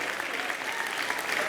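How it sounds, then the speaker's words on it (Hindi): A studio audience at a live Indian TV comedy show applauds for a contestant's mother, a dense, steady clapping that fills the whole short stretch at close range with no talk over it. "मम्मी के लिए तालियां"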